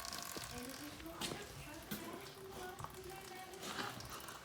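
Chaincase oil drains from a Yamaha VK540V snowmobile, a faint continuous trickle and dribble with small drips, low in level.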